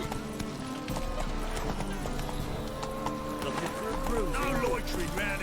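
Horse hooves clip-clop at a steady trot in The Witcher 3 video game, under game music and tonal effects, moderately loud throughout, with a brief voice near the start.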